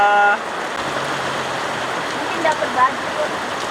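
Heavy rain pours steadily as a dense, even wash of noise, close and continuous, with a brief louder burst at the start and a few faint splashes later.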